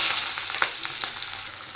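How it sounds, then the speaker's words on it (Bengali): Chopped onions with a pinch of nigella seeds sizzle and crackle steadily in hot oil, an unbroken close frying hiss with occasional pops and stirring, no voices. "এবার তেলে আমি সামান্য কালো জিরে দিয়ে দেব এবার দিয়ে দেব কুচিয়ে রাখা পেঁয়াজ"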